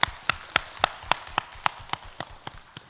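About a dozen evenly spaced claps ring out in a church congregation welcoming a newly registered member, sharp and fairly close, keeping a steady rhythm before tapering off.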